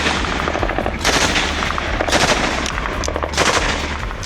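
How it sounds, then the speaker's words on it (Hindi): Rapid bursts of automatic gunfire crackle through a night attack on a police line, with loud volleys arriving in clustered waves and a rumbling background between them. "धमाकों की और गोलियों की तड़तड़ाहट ने अंधेरे और सन्नाटे को चीर डाला"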